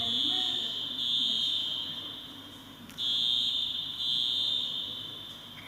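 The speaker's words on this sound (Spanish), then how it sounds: "¿Esto es la alarma o no?" A fire alarm rings during a talk at a pain medicine conference, a steady shrill high-pitched tone that pulses on and off in long bursts, coming from a distance under faint room noise, while a person briefly speaks.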